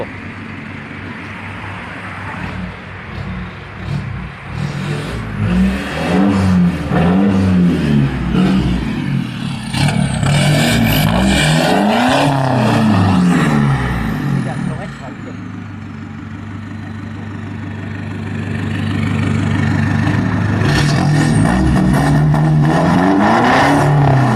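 A car engine revs repeatedly through a loud aftermarket exhaust, rising and falling in pitch, with people talking underneath.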